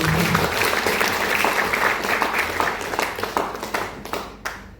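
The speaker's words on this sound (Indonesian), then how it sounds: "Boleh berikan tepuk tangan untuk Tuhan." Applause from a church congregation, dense and close, with many hands clapping together at once, steady at first, then thinning out and fading near the end.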